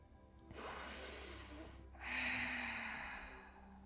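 Two deep, full breaths during a yoga session, a long hissing inhale followed by a second airy breath, close and quiet with no speech.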